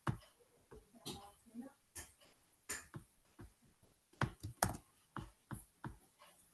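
Quick irregular keystrokes on a computer keyboard while entering data on a website, close and fairly quiet, with short clusters of taps and brief pauses.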